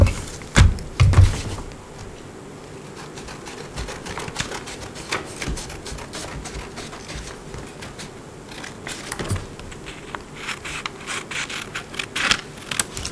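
Material is cut along a measured line with a continuous scraping, rasping stroke, close and moderately loud, broken by a few sharper knocks near the start and toward the end, with no talking.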